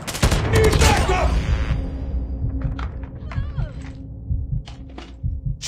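M13 rifle gunfire in Call of Duty Mobile checkpoint gameplay: a loud, rapid burst of automatic shots up front, followed by fainter scattered shots and game effects in the background.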